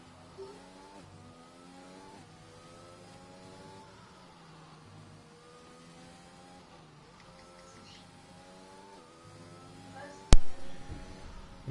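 A McLaren race car on its outlap around Hungary in a sim racing league, its engine droning and shifting through gears at steady moderate volume, with a sharp click near the end.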